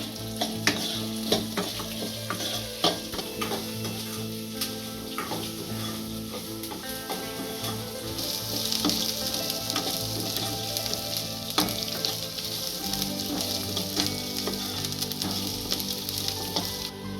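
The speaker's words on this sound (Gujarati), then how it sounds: "આપણે બે ઝીણા કાપેલા કાંદા નાખીશું કાંદા સારા સેડવી લઈશું" Two finely chopped onions sauté in a pan for dahi upma, giving a steady, close crackling sizzle with occasional stirring scrapes throughout, no voices.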